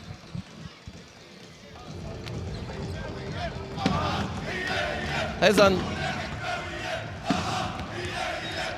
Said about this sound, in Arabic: هيك أجواء نادي الحكمة وجماهير نادي الحكمة هنا في العاصمة الإماراتية أبو ظبي